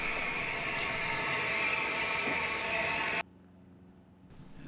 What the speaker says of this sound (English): This fine locomotive was not in the workshop for attention.